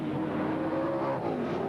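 Race car engine roaring along Conrod Straight during the 1990 Bathurst 1000 touring car race, a loud, steady high-revving drone with whirring harmonics held throughout, no talk over it.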